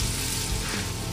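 Minced garlic hits hot oil in a pan with translucent onions and sizzles steadily, a dense close frying hiss that holds even for over a second with no talk.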